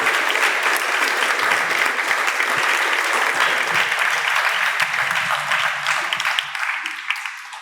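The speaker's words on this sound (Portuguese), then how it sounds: "Can we give a hand for all of these" A church congregation claps for its leaders and pastors during an evening service. Loud, dense applause rolls on for several seconds before tapering off slightly near the end.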